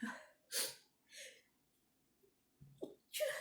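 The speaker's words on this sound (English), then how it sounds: "I'm sorry, I'm gonna sneeze." A close, breathy sneeze with a sharp burst of air, preceded by a few short inhales and nasal breaths, otherwise quiet.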